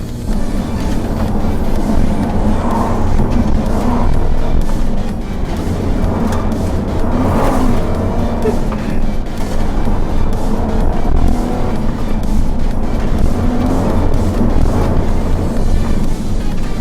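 A Dodge Grand Caravan GT with a 3.6 liter Pentastar V6 accelerates on a canyon run. The engine drones loud and steady inside the cabin with rising revs and a brief shift dip, and no voices.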